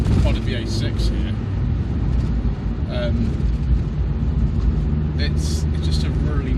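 A 2003 MG ZR Express 160 is driven hard on the A6, its engine and road noise forming a steady low rumble beneath someone talking throughout.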